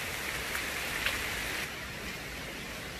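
Steady rain hisses across surfaces nearby, a dense, even patter that eases slightly partway through, with no voices.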